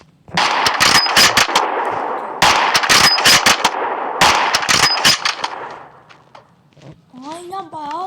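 Gunfire from a Minecraft gun mod: bursts of rapid automatic shots, loud and close, in three separate volleys, followed by a short pause and a voice speaking at the end.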